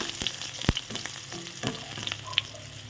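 Onion, garlic and bottle gourd sauté in a pan, a soft, steady sizzle broken by a few sharp clicks and scrapes of a utensil stirring, quiet and close with no talking.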